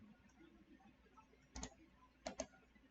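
Computer mouse clicks during landscape texture editing software work, a single sharp click followed by a quick double click, faint and close against a quiet room.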